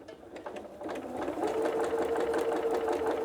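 A sewing machine stitches through a quilted Santa cookie rug, a steady rapid mechanical whirr that grows louder and holds, close and alone.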